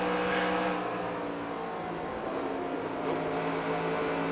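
A race car engine in the NASCAR Racing 2003 video game at Charlotte holds a loud, steady high-revving drone with slight pitch shifts, continuous throughout and with no speech.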